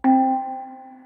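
One struck note from a virtual handpan sample library, played with reverb turned on, rings out with a clear metallic tone and a long, smooth, reverberant decay.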